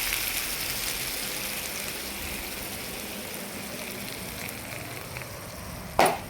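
Coconut chutney poured into a hot tempering pan gives a loud, steady sizzle and crackle of frying that holds throughout, ending in a short metallic clatter.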